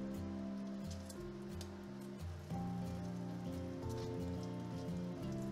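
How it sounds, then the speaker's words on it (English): Two bacon slices crackle and spit in a pan over medium-high heat, a steady close sizzle running throughout over a louder tonal musical backdrop. "fry up 2 slices of bacon to your desired crispiness"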